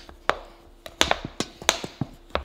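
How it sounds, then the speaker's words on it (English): Pastry cutter chopping cold butter into flour in a bowl, a series of sharp close thuds and clacks in uneven bursts, about a dozen strikes with no talking. "Use my butter cutter."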